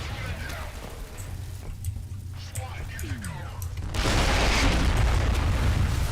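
An explosion in the first-person shooter F.E.A.R. opens with scattered booms and mechanical clatter over a low rumble. Midway it swells into a loud, sustained roaring blast that fills the sound.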